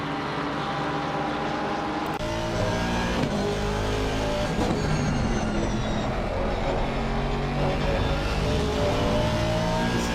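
Race cars in Assetto Corsa Competizione lap the Monza circuit, engines droning and revving loudly and continuously, with gear changes and several cars blending together close by.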